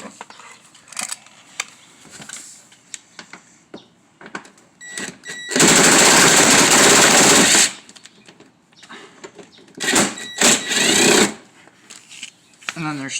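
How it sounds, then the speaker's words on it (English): A ratchet or hand tool spins out 10mm bolts beneath the headlight of a Honda Accord, giving a loud, dense burst of ratcheting in the middle and shorter clicking bursts near the end, among quiet handling noises. "I'm going to take the bolt off on this side."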